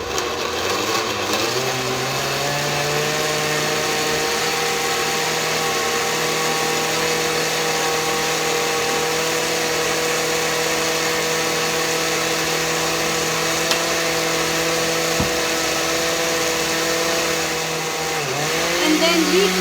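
A kitchen blender grinds smoothie and health-shake ingredients with a steady, loud motor whine that holds almost unchanged for about twenty seconds, then dips and shifts near the end as the load changes.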